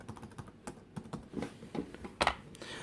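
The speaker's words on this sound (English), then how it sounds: "And the keyboard is quite nice to type on." Typing on the keyboard of a ThinkPad 390X laptop, a steady run of soft, close key clicks with one louder tap near the end, with no speech.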